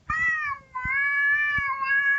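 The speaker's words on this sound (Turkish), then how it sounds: "Oğlum kediye bak ya ne yapıyor" A cat gives two drawn-out meows in quick succession, close and loud, the second longer and steadier, with a few faint background knocks.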